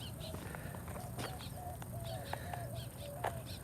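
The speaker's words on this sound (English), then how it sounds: "it's just nice to hear the birds, listen to the birds." Birds calling outdoors in a desert wash, with repeated short chirps and cooing notes scattered over soft, steady ambient noise, faint and somewhat distant.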